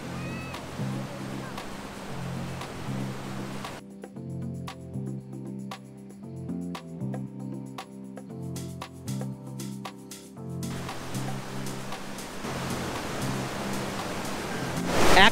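Rushing water at Sahastradhara, swollen and muddy from monsoon rain, roars as a steady broad hiss; a tonal passage cuts across the middle before the torrent returns loudly.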